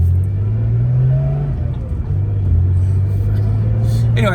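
A car drives out of town on an open road toward snowy mountains, its engine humming low and steady with a slight pitch shift as it accelerates, and road rumble beneath.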